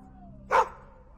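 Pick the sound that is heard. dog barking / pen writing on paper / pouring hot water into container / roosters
dog barking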